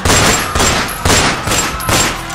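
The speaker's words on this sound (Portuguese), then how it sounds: "estamos ouvindo barulhos de tiros daqui. São vários disparos" Several rapid bursts of gunfire ring out in The Sims 4, multiple shots arriving in about four sharp clusters, loud and close, with no talking over them.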